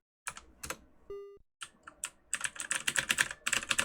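Computer keyboard keys clack sharply as they serve as joystick controls for an old adventure game, a few isolated taps and then a rapid flurry of close, loud keystrokes, with a brief game tone in between.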